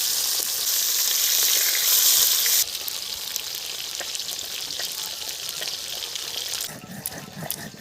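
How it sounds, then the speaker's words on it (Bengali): Pieces of rui fish fry in hot oil in a pan, a loud continuous sizzle that shifts in intensity midway and softens near the end, close up and without talk. "মাছ ভাজা হয়ে গেছে"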